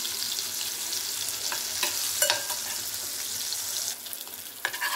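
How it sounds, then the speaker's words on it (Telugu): Dry fish frying in a pan, a steady bright sizzle with scattered pops and the occasional scrape of stirring, close and continuous with no voices. "ఎండు చేపలు అయితే బాగా ఫ్రై అయినాయి"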